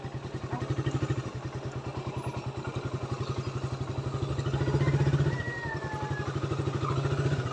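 Harley Davidson motorcycle idling nearby with a steady, rapid low-pitched thumping pulse that swells slightly for a moment midway, alone without voices.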